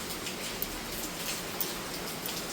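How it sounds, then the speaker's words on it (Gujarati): Steady rain falls in a continuous even hiss, with faint irregular drop ticks scattered through it and no voices. "વરસાદ ચાલુ છે પાછો"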